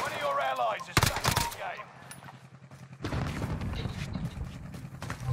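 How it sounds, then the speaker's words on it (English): Distant gunfire from two teams fighting in the Call of Duty Warzone video game, heard as a few bursts of rattling shots mixed with game ambience and a player talking over it. "We got two teams killing each other on blue. Definitely two teams shooting out right now."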